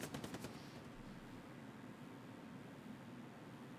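Video game gunfire: a quick burst of rapid shots at the start, then a steady hiss of background noise, faint and fairly distant.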